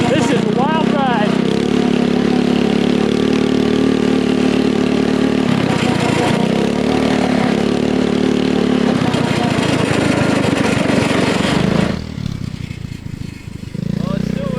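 A motorized fat tire bicycle's small engine drones steadily while being ridden, close and loud with shifting pitch as it speeds up and slows, then cuts off near the end.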